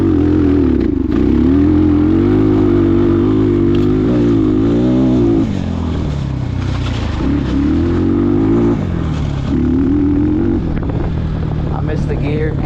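A Trailmaster TM33 Chinese dirt bike engine revs up and down while riding, its pitch climbing, dropping and climbing again as a gear is missed, loud and close with someone talking over it.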